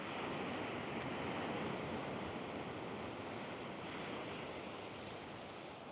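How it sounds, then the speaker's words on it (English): Big ocean waves surging onto a shore near natural rock pools, a constant loud roar of surf with wind buffeting the microphone throughout, no voices. "Waves are pretty big here."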